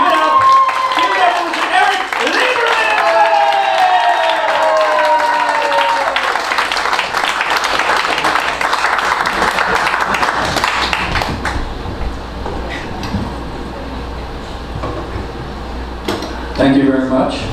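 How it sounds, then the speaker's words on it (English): An audience at a live comedy show claps and applauds, with dense clapping under a voice and tonal sounds at first, then thinner clapping continuing more quietly toward the end. "you can't help but clap right now"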